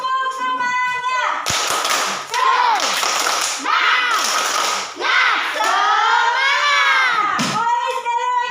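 A classroom of children performs the tepuk semangat clapping chant, shouting rhythmic words together with loud bursts of claps between the chanted phrases.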